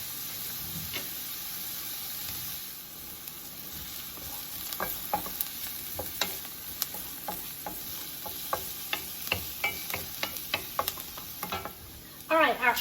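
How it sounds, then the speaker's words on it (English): Diced onions fry in a pan over medium-high heat, a steady close sizzle broken by sharp scraping stirs that come more often toward the end, with no talk. "Our onions are cooking nicely"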